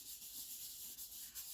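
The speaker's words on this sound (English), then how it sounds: "you can fold this over and then just do that to really give it a good rub down" Folded, glued paper for a folio is rubbed down by hand, a faint, soft, steady scuffing with slight rhythmic strokes and no talk.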